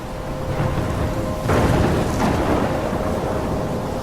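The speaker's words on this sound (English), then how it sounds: "I'm trapped in a storm?" A thunderstorm in the video game Life is Strange: steady, heavy rain with a swelling rumble of thunder partway through, sustained and fairly loud, with no voices.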